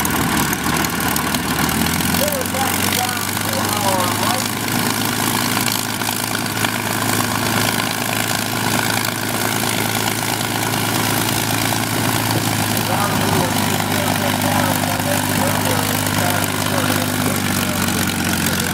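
A vintage aircraft engine in flying condition runs continuously outdoors at a transportation museum with a steady low droning rumble, loud and close, while people talk faintly underneath.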